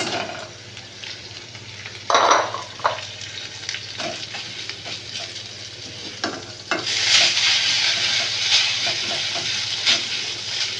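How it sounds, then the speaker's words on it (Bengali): Maggi noodles fry with egg in a hot pan, a continuous close sizzle broken by stirring and scraping strokes that swell louder in the second half. "ম্যাগিটা ডিম দিয়ে ভাজা হয়ে গেছে"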